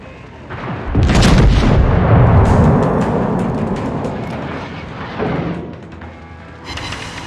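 Heavy naval ship guns fire in a video game: a loud, deep booming salvo with long rumbling decay, followed by a second softer boom, close and powerful, with no talk.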